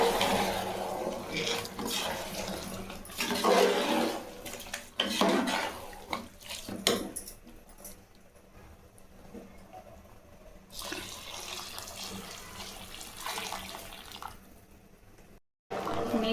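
Water poured into a pressure cooker over rice for chicken biryani gives a rushing, splashing stream for several seconds, then eases into quieter trickling and faint kitchen noise.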